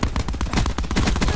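Rapid automatic gunfire in a Titanfall-style first-person shooter game, a continuous dense burst of shots lasting over a second, loud and close with no pauses.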